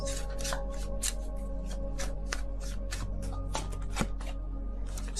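Tarot cards shuffled by hand before one card is drawn, a run of quick, crisp card flicks and slides repeating at an uneven pace over a low steady hum.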